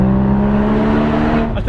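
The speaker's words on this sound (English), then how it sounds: "Listen to that noise echoing up through here." Ferrari F12 engine echoing up through a mountain pass, a loud steady droning tone that holds for over a second and then fades slightly.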